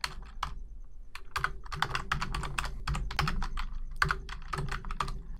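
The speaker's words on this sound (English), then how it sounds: "And then just type in Happy Valentine's Day." Someone types on a computer keyboard in a steady run of close key taps, now and then pausing for a moment, with no voice.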